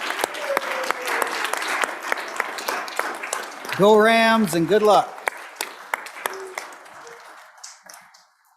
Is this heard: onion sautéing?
no